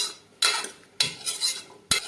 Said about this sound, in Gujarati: હવે તેને સારી રીતે મિક્સ કરી દેવાનું.